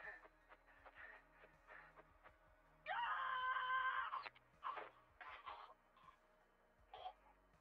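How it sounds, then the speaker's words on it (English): A caller screaming for help in the 112 Operator emergency-dispatch video game, a sustained, strained, distressed cry lasting over a second, heard over a muffled phone-like line amid faint shuffling and background murmurs. "Sir, scream as loud as you can."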